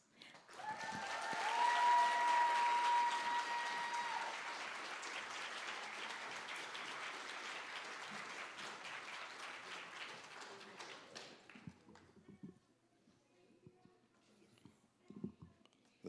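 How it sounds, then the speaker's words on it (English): A graduating class audience at a senior awards night applauds after a student speech, a loud sustained wash of clapping and cheering that swells, holds for several seconds, then thins out to scattered claps and murmurs. "Let's give it one more round of applause for Camila"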